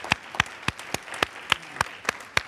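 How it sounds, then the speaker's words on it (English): A few scattered hand claps from an audience at an education event, spaced roughly evenly, sharp and light, rather than full applause. "So y'all please give Best NC a round of applause for putting us all together like that."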